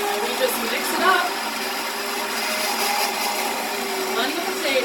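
A handheld blender purees cooked potatoes into broth, a steady high whirring motor hum running continuously with slight changes in pitch as it works through the soup.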